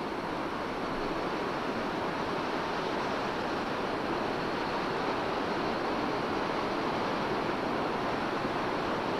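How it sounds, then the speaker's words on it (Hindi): The Beas river in flood near Kullu-Manali, running in a new course, makes a steady, loud, unbroken roar of rushing water that holds without change throughout, with no voices. "ब्यास नदी, जो अपने वास्तविक रास्ते से हटकर नए रास्ते से बह रही है।"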